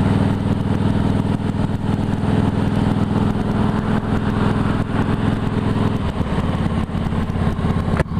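A Harley-Davidson Heritage Softail motorcycle idles close by, its V-twin engine holding a loud, steady, lumpy throb that barely changes from start to finish.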